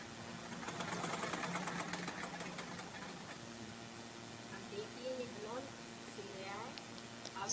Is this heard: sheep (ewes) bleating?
no